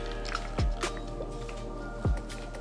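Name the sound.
rinsing and squeezing soap out of a makeup sponge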